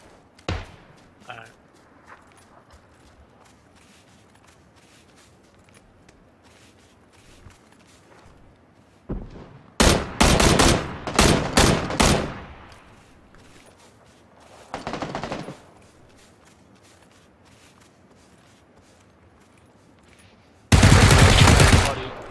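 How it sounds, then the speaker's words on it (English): Gunfire in the battle royale game PUBG, with scattered distant shots early, then a loud rapid burst of several close shots, a shorter burst, and a final dense loud volley, with speech present. "I'm being shot at"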